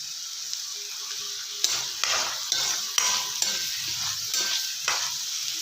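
Shredded cabbage sizzles in hot oil over a medium flame while a spatula stirs and scrapes the pan in a quick series of sharp clatters, close and clear with no talk.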